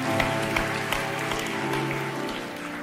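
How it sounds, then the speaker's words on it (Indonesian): A church congregation at a revival service claps together, with steady, rhythmic applause sitting under sustained keyboard or organ music that fills the room. "Boleh kita beri tepuk tangan yang terbaik bagi Tuhan."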